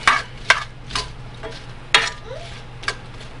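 Okra being stirred with oil and spices before roasting, heard as a few scattered spoon scrapes and clacks against the dish, sharp and close, with quiet gaps between them.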